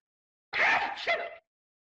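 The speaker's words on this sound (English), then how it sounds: "When you gotta sneeze and it's coming out and you have no choice." A single sneeze bursts out sharply, a quick forceful exhale followed by a brief second gust, close and loud, then silence.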